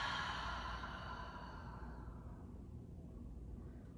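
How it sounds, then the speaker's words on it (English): A long open-mouth exhale during yoga breathing, a soft, steady airy whoosh that fades over a few seconds, close and quiet. "Big breath in. Open mouth, exhale."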